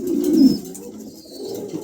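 A pair of show-quality pigeons coos nearby, one clear throaty coo followed by a softer, lower murmur.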